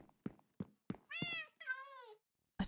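A cat in the Minecraft video game gives two drawn-out, tonal meows after a few soft thunks, clear and close against silence.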